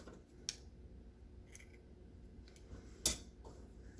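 Scissors snipping crochet yarn after the last single crochet of an ear-loop face mask: a few sharp, isolated clicks and snips spread over a quiet background, with one louder close cut.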